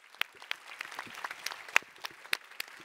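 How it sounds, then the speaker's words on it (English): Scattered applause from a small audience at a Future Fabrics Expo 2024 panel session, uneven individual claps rising and thinning over a few seconds, moderately distant and fairly quiet with no talk. "Please give a round of applause to our panelists."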